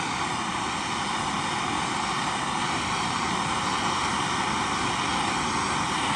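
A MAP gas torch heats the weld on a dented FMF two-stroke exhaust pipe: a steady, close, loud roaring hiss that holds unchanged throughout.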